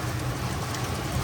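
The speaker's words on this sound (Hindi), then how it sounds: "भाई इस साइड से भी बारिश आ रही है" Heavy rain in Dehradun, a dense, steady hiss of rainfall pouring down on surfaces, close and continuous with no voices.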